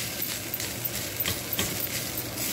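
Chillies and garlic frying in a pan, with a steady, even sizzle and occasional light clicks from stirring, close and continuous.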